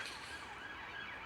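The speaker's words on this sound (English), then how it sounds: "Please excuse the siren there" An emergency vehicle siren wails steadily as it passes by, moderately loud and continuous, with no talking over it.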